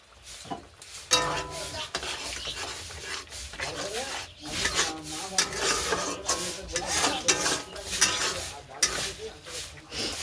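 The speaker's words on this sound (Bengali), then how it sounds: "মশলাটা কষানো হোক আগে, মশলাটা পরে দেবো।" Spice paste (masala) mixed with gram flour being sautéed in a pan, with irregular scraping and stirring strokes over a soft sizzle, close and fairly quiet.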